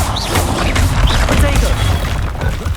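Incendio fire spell cast in the video game Hogwarts Legacy: a loud, dense whooshing burst with heavy low rumble and impact thumps, sustained across the whole moment.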